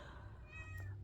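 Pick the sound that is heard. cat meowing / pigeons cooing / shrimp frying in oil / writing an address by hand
cat meowing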